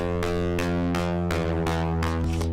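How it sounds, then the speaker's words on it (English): A distorted synth pluck in a bass house track repeats in a steady rhythm of sharp, bright attacks over sustained buzzy harmonic tones, loud and dense like a distorted guitar, with no voices. "I have this pluck sitting in the back of my mix a lot, so it just kind of adds a little bit of distortion. It kind of sounds like a distorted guitar."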